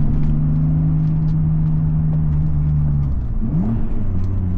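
A BMW 850csi V12 droning steadily under load, its note holding then dipping and swinging back up as the throttle is blipped, close and continuous with no voices.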